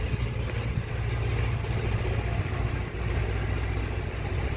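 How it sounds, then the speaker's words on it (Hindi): Farm tractor ploughing a nearby field, its engine a steady low rumble that stays loud and constant throughout, with no talk over it. "यहीं पास में खेत की जुताई हो रही है, ट्रैक्टर बहुत शोर मचा रहा है"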